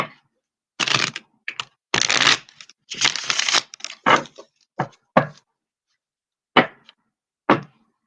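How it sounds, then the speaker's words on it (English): Tarot cards are shuffled in short, crisp bursts of riffling and tapping, several quick flurries followed by a few isolated snaps, close and clear with no talking. "Now, this is going to be my last shuffle."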